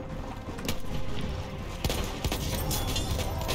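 Martini-Henry rifle fire in a snowy multiplayer shooter game, a dense battlefield wash of gunfire with a couple of sharper shots cutting through steady rumbling noise.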